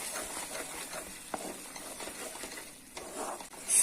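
Cashews and raisins being stirred into carrot halwa in a pan, with soft, quiet scraping and shuffling strokes and a faint sizzle, no voices.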